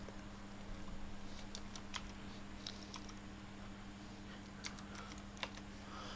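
A search word is typed on a computer keyboard, a few faint, quick key clicks in short bursts over a steady low hum from the machine.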